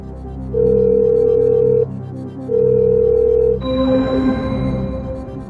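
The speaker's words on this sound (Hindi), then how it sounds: "मोहम्मद हुसैन को फोन लगाया जाए, वीडियो कॉल लगाया जाए कंप्यूटर महाशय" Video call ringing tone on a computer: two steady, loud ringing tones with a pause between them, then a shift into a brighter connecting sound with background noise.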